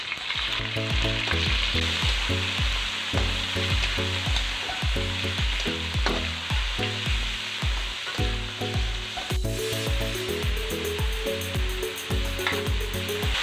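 Garlic, onion and pork sauté in a pan for pancit canton guisado, with a loud continuous sizzle and repeated rhythmic scraping strokes of stirring close up, no voices over it.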